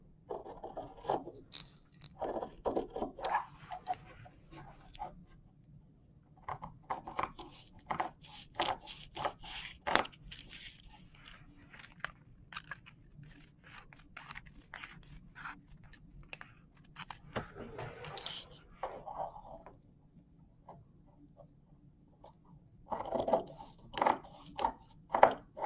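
Scissors cutting a fabric shield piece for a fly front, quiet close snips and crisp slicing bursts in irregular runs with pauses, plus light handling rustles.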